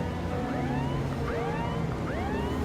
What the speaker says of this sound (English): Probably get that siren fixed. Sounds a little off.